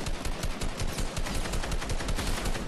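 Fast, continuous automatic gunfire in Fortnite, loud and close, with shots rattling in a dense unbroken stream and no talking.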